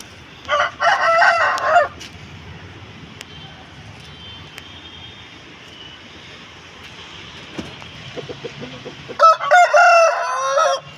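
A Nellore fighting rooster of the pandem kollu breed crows loudly and close by, once at the start and again near the end, with a quiet stretch of faint background noise between the two calls.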